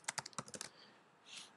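A name is typed on a computer keyboard in a short burst of quick, crisp key clicks close up, then a brief soft rustle, with no voices.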